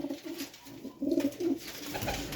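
Pigeons coo in a few low, repeated throaty phrases, fairly close and moderately loud, over a steady background hum with no voices.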